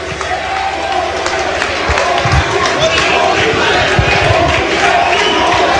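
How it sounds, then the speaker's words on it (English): A loud, dense wrestling crowd roars and chants in unison during a Teddy Hart vs Sabu match in 2003, with a steady wall of voices and some thuds underneath. "The crowd chanting, "Holy shit!""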